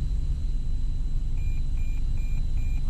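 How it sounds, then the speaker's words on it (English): Four short, evenly spaced high beeps sound over a steady low rumble, a Toyota radar cruise control alert chiming inside the moving car. "Fire alarm goes off,"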